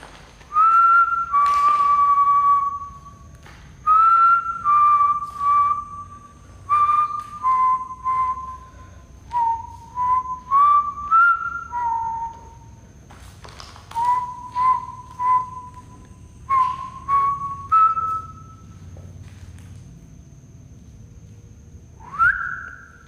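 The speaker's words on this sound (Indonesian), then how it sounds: "Gua coba pakai siulan dulu teman-teman ya." A person whistles a slow, repeated melody of short sliding phrases, clear and close, with brief pauses between them and a quiet background.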